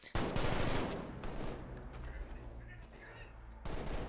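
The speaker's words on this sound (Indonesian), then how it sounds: "Mereka langsung menembak orang-orang yang berada di terowongan." Rapid bursts of gunfire from the film Sicario crackle densely over a loud, rumbling background in a tunnel, shots overlapping continuously with a sharp surge near the end.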